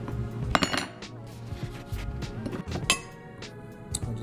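Dishes and cutlery clinking in a kitchen while cooked Jamaican akee and saltfish ingredients go into a dish, with sharp close clinks and taps over low background noise.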